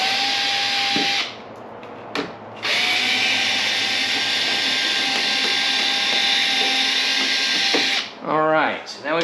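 A power drill whines steadily while backing screws out of a car body panel, with two short breaks where the motor stops and a rapid stuttering burst near the end as the trigger is released.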